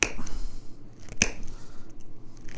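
Flint knapping at an outdoor Native American festival demonstration, a stone point being notched with sharp, crisp clicks and scrapes; two distinct close taps stand out over faint background noise.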